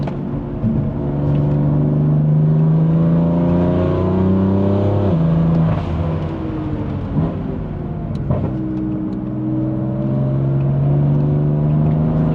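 A 2020 BMW M4 Competition with a Stage 2 tune drives along, its engine a loud, close, continuous drone whose pitch rises and falls as it pulls through the gears, with no voices.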